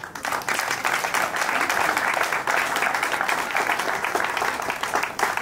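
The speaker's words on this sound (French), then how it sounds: "Je vous prie d'applaudir cet enfant." A crowd of wedding guests at a civil ceremony applauds continuously, with dense, sustained clapping filling the whole stretch.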